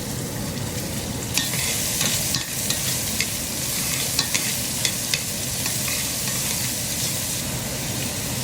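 A large onion sizzles and fries in a pan after ribs come out, a continuous loud hiss with occasional light clicks of stirring.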